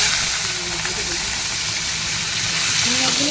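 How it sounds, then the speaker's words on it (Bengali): Shrimp coated in salt and turmeric sizzle in hot oil, a steady, close, broadband hiss that holds for the whole span while a voice talks over it. "চিংড়ি মাছগুলো সবই ভেজে নেব"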